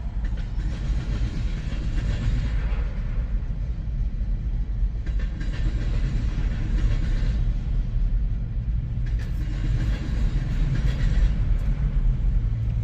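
A CSX freight train rumbles as its boxcars slowly get rolling, giving a steady heavy roar with some clattering wheels. It is moderately near and nobody speaks.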